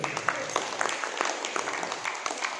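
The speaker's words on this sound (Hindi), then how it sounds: "एक बार ताली बजा उनके लिए जरा" An audience at a religious discourse gathering claps in a loose, scattered patter, fairly faint and steady, with a voice talking over it.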